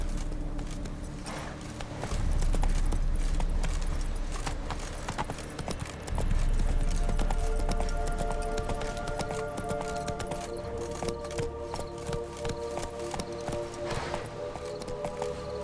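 Roach, a horse in The Witcher 3, gallops with a steady, rapid clip-clop of hooves that carries on for the whole stretch, close and fairly loud, with deep rumbling thuds underneath.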